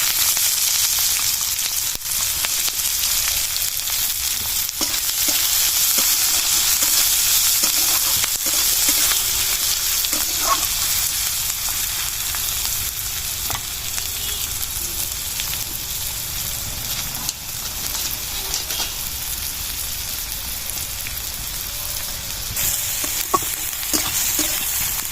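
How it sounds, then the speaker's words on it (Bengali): Bay leaf, green chili and chopped onion frying in hot oil for a soybean and egg dish, a loud continuous sizzle with occasional stirring clicks and scrapes, close and steady throughout. "তেল গরম হয়ে গেছে, তেজপাতা দিয়ে দিচ্ছি, কাঁচা লঙ্কা, পেঁয়াজ কুচি দিয়ে দিচ্ছি।"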